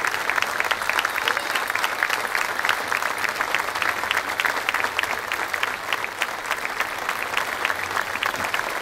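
Audience applause at an anniversary music show, a dense, steady wash of many hands clapping that holds loud and continuous throughout.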